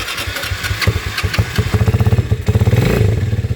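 Rusi Mojo 200 motorcycle engine with a 67mm block and piston, freshly refitted after countershaft and needle bearing replacement, cranks and fires up, then runs with a loud, close, steady thumping idle and rising revs.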